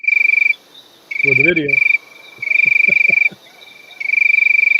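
Crickets chirp loudly in sustained, rapid trilling bursts that stop and start again, with a voice speaking briefly in one of the gaps.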